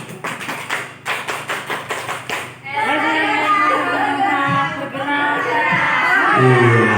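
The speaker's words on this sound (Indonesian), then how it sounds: "tepuk tangan yang ketiga" A group of teachers at a school training session claps a rhythmic pattern in unison, the sharp sets of claps filling the first few seconds before a crowd breaks into loud, overlapping chanting and voices.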